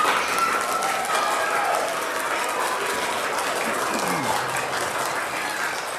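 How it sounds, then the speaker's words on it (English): A school audience at a fourth-grade mid-year performance applauds to vote for a team, a steady, dense wash of clapping and crowd noise that holds throughout, with faint voices mixed in. "the way you vote is by giving them a round of applause"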